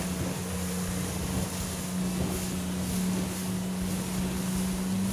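A 2006 Seafox cuddy cabin boat runs through three-foot ocean chop: a steady outboard motor drone at 3,400 RPM and about 16 mph, with continuous water and wind noise, loud and unbroken throughout.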